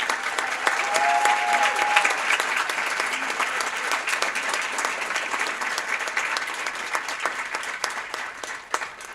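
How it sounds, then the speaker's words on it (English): A big round of applause at a student production awards ceremony fills the hall, a dense and sustained sheet of clapping that slowly thins toward the end. "Let's again give them a big round of applause."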